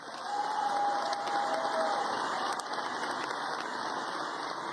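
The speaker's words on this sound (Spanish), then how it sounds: "queremos recibir con un fuerte aplauso" Audience applause greeting a newly introduced government minister at a Colombian presidential cabinet presentation, a steady wash of clapping with some cheering that stays fairly even across the clip, with a faint whistle-like tone early on.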